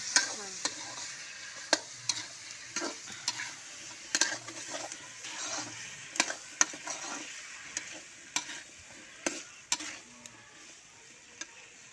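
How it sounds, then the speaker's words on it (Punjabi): Potatoes dropped into a roasted tempering for methi sabzi sizzle steadily in the pan, with sharp spoon taps and scrapes punctuating the frying at irregular intervals, no voices. "ਅੱਛਾ ਤੜਕਾ ਰੋਸਟਡ ਹੋਣ ਤੋਂ ਬਾਅਦ ਆਲੂ ਐਡ ਕਰਦੇ ਹਾਂ ਨਾ"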